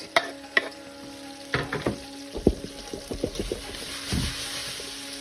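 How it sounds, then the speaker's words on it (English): Garlic, onions and spring onions hit hot oil in a pot, giving a steady sizzle with a few sharp clatters and stirring knocks from a utensil, moderately close and with no voices. "now we're gonna put in our garlic here, lovely, and we put in our onions and the spring onions"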